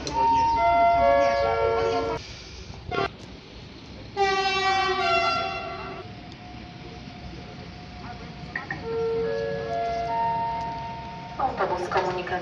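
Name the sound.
train passing through a station without stopping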